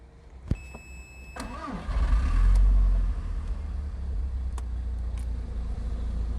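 An Audi TT engine cranks and catches with a sharp starter burst, then settles into a loud, steady idle close by, with a few faint clicks over the running engine.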